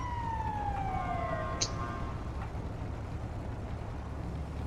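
Emergency vehicles arrive in Grand Theft Auto V, an ambulance trailing a coroner's van, with a siren's falling wail sweeping down over a steady low engine drone for the first couple of seconds before fading into the traffic hum.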